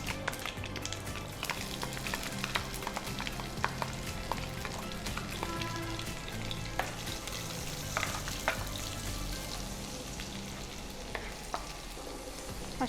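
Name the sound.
onion frying in oil with cumin and mustard seeds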